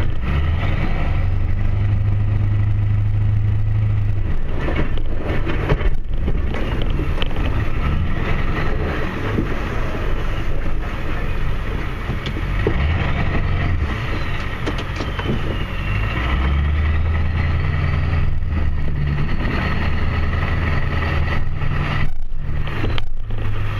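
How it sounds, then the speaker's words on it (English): Pickup truck exhaust idling and rumbling steadily at close range during snow plowing, a continuous low drone with slight swells and no talking. "Let you guys listen to some exhaust."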